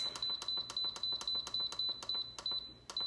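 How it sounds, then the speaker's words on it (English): An Instant Pot pressure cooker beeps in a fast, regular series of short high-pitched tones, fairly quiet against faint background noise. "We'll hear some beeping."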